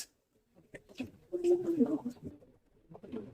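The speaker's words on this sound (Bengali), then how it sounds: "বাইরের কবুতরগুলো যেগুলো ছিল সেগুলো চলে আসছে" Pigeons coo softly in a low, throaty burble, a few calls close together under quiet talk, with pigeons from outside coming in through a door.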